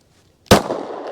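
A single sharp, loud 9mm shot from a Glock 19 with a 4-inch barrel, fired with subcompact self-defense ammunition. It cracks after a short silence and leaves a lingering echo tail.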